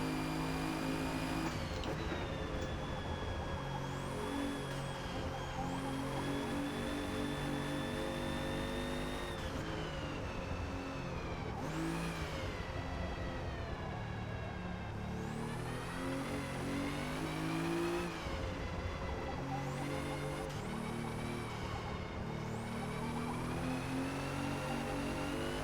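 A 2017 Alfa Romeo Giulia engine in Forza Motorsport on the Grand Oak track, droning steadily at high revs with rising and falling pitch as it shifts through the lap, loud and continuous with no talk.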